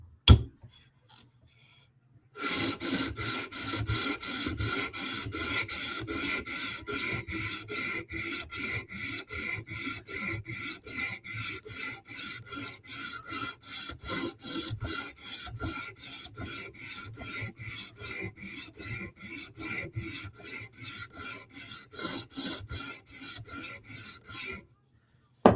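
A 20CV steel knife blade from a Sebenza and Yojimbo is worked across a sharpening stone in fast, even back-and-forth strokes, a continuous rhythmic rasp that starts after a brief quiet moment and runs for over twenty seconds.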